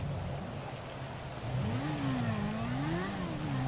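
A car engine in Grand Theft Auto V drones steadily while driving in pursuit of a limo, then rises in a rolling rev around the midpoint and holds a wavering, accelerating pitch, close and continuous.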